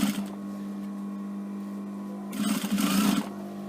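A sewing machine stitches quilt binding around a mitred corner: a steady motor hum that swells into a louder, faster run of stitching near the end.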